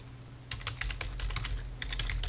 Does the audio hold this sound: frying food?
no